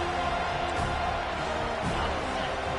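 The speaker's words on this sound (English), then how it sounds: "Decibels rising as the crowd gets behind this defense on third down." Roaring football stadium crowd cheering on third down at an FSU versus BC game, a dense, steady wall of noise with scattered whoops and shouts, no clear talk.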